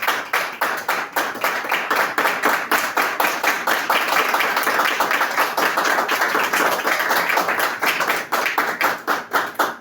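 A church congregation claps in a steady, fast rhythm, many hands together at close range, loud and continuous for several seconds.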